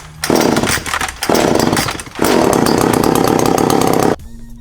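A Ryobi 40V battery chainsaw with a fresh, sharp chain, whining loudly in three bursts of running, each held for about a second or two, then cutting off abruptly.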